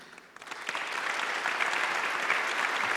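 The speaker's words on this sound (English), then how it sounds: "He always deserves an applause." Applause from a conference audience swells from a few first claps into a full, steady round of clapping that keeps going to the end.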